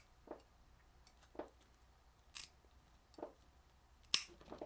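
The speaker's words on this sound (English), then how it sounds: "I'll use these snips." Metal snips cutting woven wire loom for an LS3 transmission harness, giving several separate crisp snips spaced about a second apart, close and fairly quiet against a soft background hiss.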